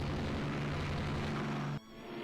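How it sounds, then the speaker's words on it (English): Torpedo hits bursting against warships in the naval strategy game Rule The Waves 2, a dense, sustained rumbling roar of explosions that cuts off abruptly near the end, leaving a quieter low tail. "Hit by a torpedo. Torpedoes. A lot of torpedoes going in."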